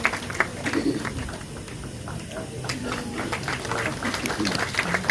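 Scattered audience clapping at an awards function hall, uneven rapid hand claps from a modest crowd over a busy background, with talk present.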